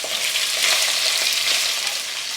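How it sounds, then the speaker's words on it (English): Lamb offcuts sizzle and fry steadily in hot oil with cardamom pods, a cinnamon stick and cumin seeds, a loud, dense, continuous crackle that swells slightly in the middle. "the offcuts of lamb going in"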